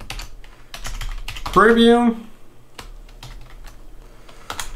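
Keys on a computer keyboard are typed in short bursts of close clicks, set against a steady low hum, with a single spoken word cutting across partway through.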